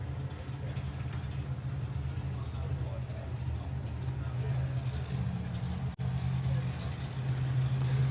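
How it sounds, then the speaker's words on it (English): A Toyota Supra drag car idles at a drag racing event with a low, steady engine rumble and a faint tonal drone. Crowd noise and commentary run underneath. "the Supra's fired up"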